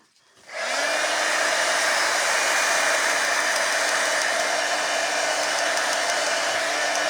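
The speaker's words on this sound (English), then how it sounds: "I am going to see what kind of drying device I didn't put away." A drying device blows air steadily over wet paint, a loud, constant whooshing roar that starts abruptly and runs unbroken, with no voices.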